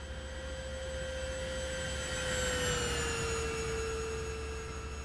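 Simulated engine of an RC trainer plane in the RealFlight simulator game, a steady high-pitched electric whine that slowly drops in pitch as the plane passes, alone without talk.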